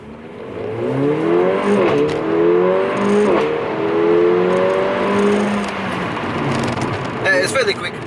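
A Mercedes-AMG A45 launches hard from a standstill, its engine note climbing in a steady, loud rising sweep through the revs, then shifting near the end with a brief crackle as a new gear engages.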